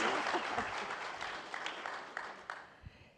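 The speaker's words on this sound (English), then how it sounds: "Please give her a round of applause." At the ASU+GSV Summit 2025, a conference audience claps for a speaker: a soft, fairly distant round of applause that tapers off into scattered last claps.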